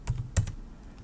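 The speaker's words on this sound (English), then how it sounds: "then just type in the username here" A few quick, quiet keystrokes sound on a computer keyboard as a username is typed, two or three short clicks close together, with no talking.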